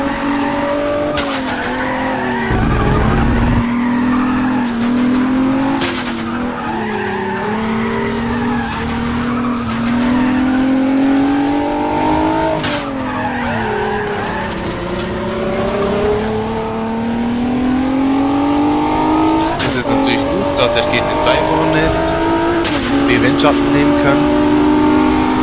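Race car engine in the racing video game Need For Speed: Pro Street on PS3, loud and continuous, revving through gear changes with tire squeal, while someone talks over it.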